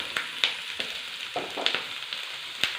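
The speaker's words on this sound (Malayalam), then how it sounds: "നേരത്തെ വെച്ചിരിക്കുന്ന കറിവേപ്പിലയും കൂടെ നന്നായിട്ടൊന്ന് ഇളക്കി" Curry leaves and spices stirred and fried in a pan for a yogurt curry, giving a soft continuous sizzle with a few sharp clinks and scrapes of a spoon at irregular moments, close and moderately quiet.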